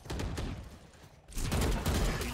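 Rapid gunfire from the tactical shooter game Valorant, a dense clatter of repeated shots that drops briefly, then resumes loud and busy with overlapping bursts.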